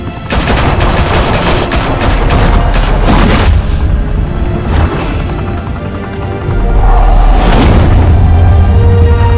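Gunfire in the Batman Telltale video game: heavy volleys of shots and deep booms crowd the opening seconds, then isolated loud blasts ring out with rumbling tails, all close and loud.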